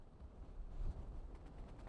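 Wind gusts across an exposed misty hill summit near Balmaha on the West Highland Way. It is a steady low rumble buffeting the microphone and swells briefly in the middle.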